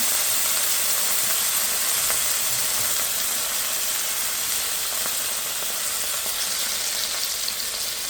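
Salmon fish shallow frying in oil in a pan gives off a loud, continuous sizzle with a bright hiss and crackle, close up and steady throughout.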